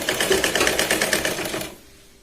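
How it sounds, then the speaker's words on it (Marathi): A sewing machine runs a press seam along a katori blouse in one close, fast, rhythmic burst of stitching that stops abruptly after under two seconds. "तर बघा परत आपण इथे त्याच पद्धतीने दाब शिलाई इथे लावून घेतो."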